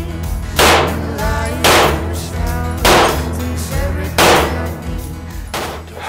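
A carry handgun fired at targets on a range in Texas, five loud, sharp shots spaced about a second apart with ringing tails between them, close to the listener.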